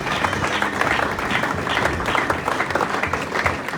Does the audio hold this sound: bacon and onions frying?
no